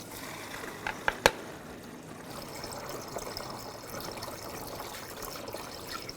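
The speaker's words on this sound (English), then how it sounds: "And just fill up the reservoir to the full line." Coolant pours into the coolant reservoir of a 2004-2012 Chevrolet Colorado 3.7L. There is a soft, steady trickle with a few sharp clicks near the start, recorded close and quiet, with no talking.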